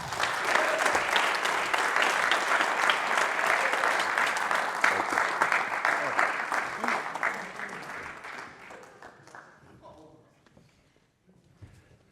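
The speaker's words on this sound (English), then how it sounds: "One more big round of applause for those captains right there and these coaches." A big round of applause for football captains and coaches, dense and sustained clapping from a crowd that thins out and fades near the end, with a few last scattered claps.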